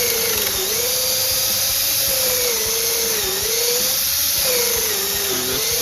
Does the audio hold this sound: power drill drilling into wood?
yes